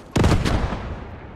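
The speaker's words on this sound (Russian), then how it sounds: "Танк херачит." A tank cannon fires in the WWII shooter game Post Scriptum: a heavy, booming blast that bursts out loud and close, then a second report follows quickly and both trail off into a long rumbling decay.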